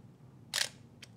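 A Minolta XE 35mm SLR fires its shutter with one short, crisp click, then a softer small click follows, close and otherwise quiet.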